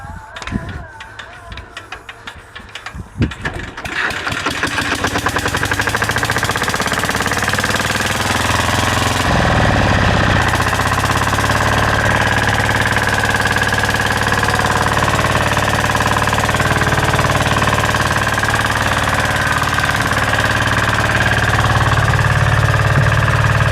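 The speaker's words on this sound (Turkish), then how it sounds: "Biraz ısıtalım motoru." An engine warms up on a farm while a field irrigation system is being set up, starting with rough knocking and then settling into a loud, steady, vibrating drone that continues throughout.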